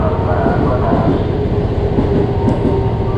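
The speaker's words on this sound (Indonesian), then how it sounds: "Keretanya udah masuk stasiun Duren Kalibata." A KRL commuter train rolls into Duren Kalibata station in a loud, steady rumble of wheels and carriages, heard close and continuous throughout.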